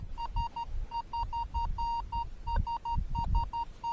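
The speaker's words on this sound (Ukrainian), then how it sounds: "Друзі, уловив дуже-дуже прекрасний сигнал." A Rutus Versa metal detector sounds its signal tone while searching along the Dnipro, a string of short, clear mid-pitched beeps repeating in an uneven rhythm over low rustling and thumping noise.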